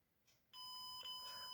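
A multimeter in continuity mode beeps against a PCB trace, one sustained electronic tone that starts sharply after a faint click and holds steady to the end.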